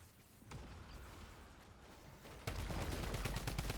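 Rapid, sustained minigun fire in a video game, a dense continuous rattle that grows louder and harsher partway through, with no voices.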